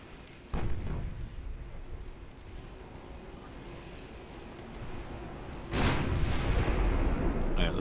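A 9-inch naval shell strikes the cruiser Christopher in the warship game Ultimate Admiral: Dreadnoughts, landing as a heavy booming impact over a steady roar of wind and sea, with an earlier muffled thud.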